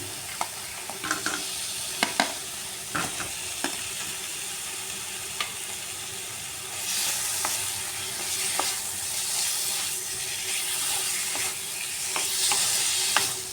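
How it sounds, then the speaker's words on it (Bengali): Fried potatoes are tossed with masala in a pan under a close, steady sizzle, broken by intermittent spatula scrapes and knocks. The frying swells louder partway through. "আলু দিয়ে আলুর সাথে মশলাটা আবার ভালো করে এইভাবে কষিয়ে নিচ্ছি"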